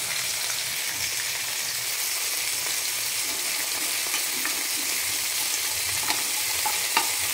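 Lentil dumplings (bori) and fish frying in plenty of hot oil in a pan give a steady, close sizzle with occasional sharp pops and crackles, no voices.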